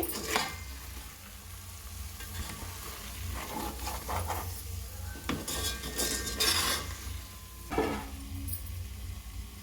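Chilli powder and salt are stirred into an egg biryani pan, a spoon scraping and clinking against the metal in repeated strokes over a continuous low sizzle.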